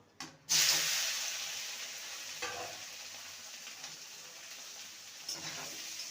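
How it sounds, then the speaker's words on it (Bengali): Potatoes seasoned with salt, turmeric and chilli powder hit hot oil with a sudden loud hiss, then keep sizzling steadily up close, with a couple of soft stirring knocks. "আলুটাকে ভেজে নেবো"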